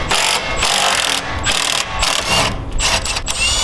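A ratchet wrench clicks as it turns a 12.18 mm socket on the suspension of a BMW F80 M3/M4 during a spring swap, in several quick bursts of rapid clicking separated by short pauses, close up.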